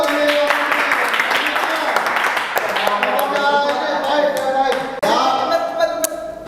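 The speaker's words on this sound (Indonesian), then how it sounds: "kasih tepuk tangan dulu" Classroom applause from students after a group presentation in a physics teacher-training session, dense clapping filling the clip with voices talking over it.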